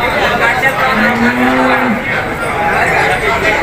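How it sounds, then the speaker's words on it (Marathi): At a cattle market selling HF and Jersey cows, one cow gives a single drawn-out low moo up close, set against constant crowd chatter and background noise. "मित्रांनो ही देखील गाय बोरवीरचा अर्जुन भाऊ यांचीवाली आहे"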